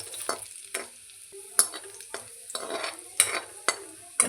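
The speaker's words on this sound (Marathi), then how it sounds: "आता यात लसूण घालूया. व्यवस्थित मिक्स करून घ्यायचा लसूण. लालसर करून घ्यायचा जरा." Garlic frying with cumin in hot oil, stirred with a spoon: a steady sizzle runs underneath repeated close scrapes and taps against the pan, with no talking.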